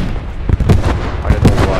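A German 8.8 cm Flak 36 anti-aircraft gun in Post Scriptum fires heavy booming rounds with distant battle noise behind them, several deep thuds spaced about a second apart.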